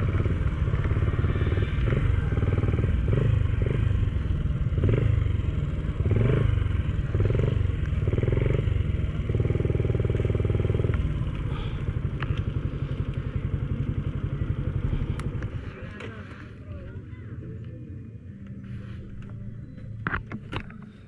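A motorcycle engine idles and revs loudly near a muddy parking spot, then shuts off around fifteen seconds in, leaving quieter clatter and faint background noise.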